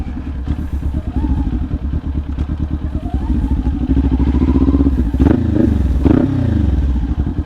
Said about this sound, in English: I like the way the exhaust sounds.